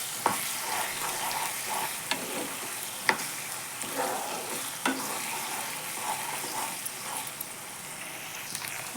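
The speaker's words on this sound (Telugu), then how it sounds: "సో హై ఫ్లేమ్లో మనం ఆ జింజర్ గార్లిక్ పేస్ట్ అనేది ఫ్రై చేసుకోవాలి." Ginger garlic paste fries over high flame in a pan for chicken pickle, a steady close sizzle with repeated stirring clicks and scrapes throughout, no talking.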